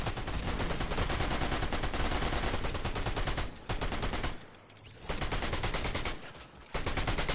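Dense, continuous automatic gunfire in a video game firefight, loud and relentless with two brief pauses before the shooting resumes.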